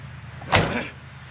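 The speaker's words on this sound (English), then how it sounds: "Oh, that door is solid too." A single solid thunk as the door of a 1983 Chevrolet El Camino is shut, close and brief, over a low background rumble.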